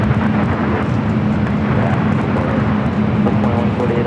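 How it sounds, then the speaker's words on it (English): Air China Boeing 777-300ER jet departing, a loud sustained engine roar with a steady tone running underneath, close and continuous, no voices. "We'll take it back up here for the Air China 777 at 300ER heading to Beijing."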